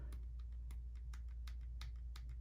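A Samsung Galaxy Fold hinge, loose with wear, gives off faint, sharp clicking creaks under light pressure, about eight in a loose irregular rhythm over a steady low hum, close up with no talking.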